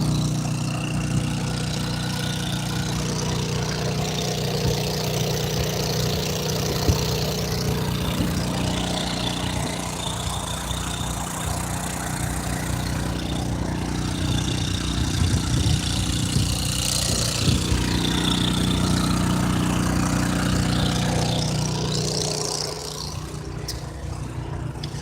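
A portable generator engine idling outside a VW bus on a cold, wet morning, a steady droning hum that runs unbroken and fairly close, with no talking.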